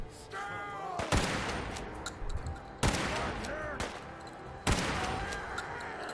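Gunfire aimed at super mutants in Fallout 4, with three sharp, loud shots spaced a couple of seconds apart over ongoing game ambience and faint background sounds.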